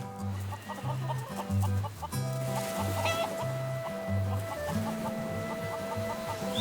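Domestic chickens on Kauai cluck repeatedly in a rhythmic run of short low calls, with brighter squawks and bird chatter layered above, close and moderately loud with no talk.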